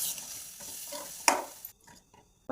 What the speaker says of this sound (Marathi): असं छान हलवायचं, असं एकत्र झालं पाहिजे नाही सगळं